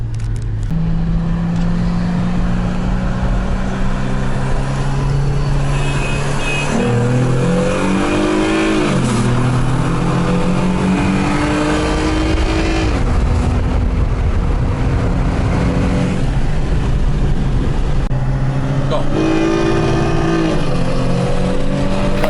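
A turbocharged BMW 335i and a Lexus IS350 race side by side, engines roaring loud and close as they accelerate through rising gear pulls, with revs climbing, dropping at shifts and climbing again.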